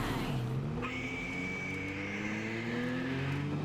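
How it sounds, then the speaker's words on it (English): In the Borderlands 3 video game, a motorcycle engine drones and revs with a close, sustained tone whose pitch climbs and shifts, running continuously with no speech. "Well, I got a motorcycle."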